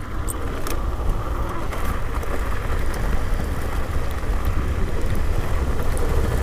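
A dirt bike on backwood dirt roads, with a steady, loud, rough engine and wind roar that is continuous and close, with no talking.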